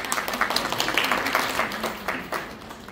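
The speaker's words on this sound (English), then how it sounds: "Can you clap for the crowd, sir?" A crowd at a healing event claps, a dense, steady patter of many hands that stays moderately loud throughout with no break.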